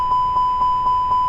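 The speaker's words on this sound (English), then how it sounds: "Before I turn on the APU, we're going to do APU test. APU fire test." Airbus A320neo APU fire test alarm in the cockpit, a steady tone with five evenly spaced beeps about a quarter second apart, clear and alone.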